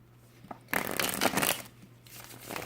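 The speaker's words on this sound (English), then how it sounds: "One more shuffle, and then we're going to get going." Tarot cards being shuffled by hand: a quiet opening tap, then a loud, dense riffling burst lasting almost a second, a short lull, and a second softer run of shuffling close by with no talking.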